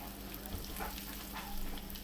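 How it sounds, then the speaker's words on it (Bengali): Pieces of rohu fish fry in hot oil, a soft, quiet sizzle with faint crackles and light stirring noises. "মাছগুলো আমার ফ্রাই হয়ে গেছে।"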